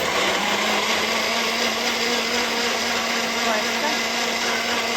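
A kitchen blender whirs continuously and loudly at high speed while blending grapes into juice, a steady motor drone with no pauses and no talking.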